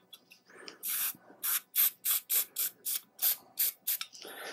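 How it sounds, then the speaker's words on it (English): Silicone spray hissing onto the rubber boot of a Stihl trimmer in about ten short, close bursts, with faint handling noises before and after. "Get a little bit of silicone spray."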